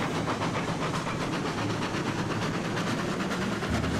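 A heavy steam locomotive in the Railroads Online game hisses and rumbles continuously, a loud, close wash of steam and rolling rail noise with no pauses.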